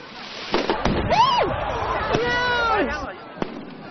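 Fireworks crackle and whistle outdoors on the banks of the Heilongjiang, with a few sharp bangs and rising shrieks over a murmur of crowd voices.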